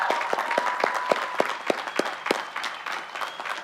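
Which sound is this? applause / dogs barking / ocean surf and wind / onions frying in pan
applause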